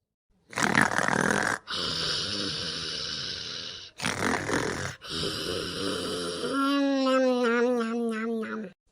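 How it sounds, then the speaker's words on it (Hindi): A man snores loudly and close, several long rasping breaths separated by brief pauses, the last one shifting into a throaty, vibrating snort. "अब ये देखत कैसन खर्राटा मारत है"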